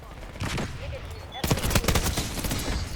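Full-auto AEK 972 rifle fire in the video game Black Ops 6, a rapid stream of sharp shots in quick bursts that grows louder midway, with a voice talking over part of it.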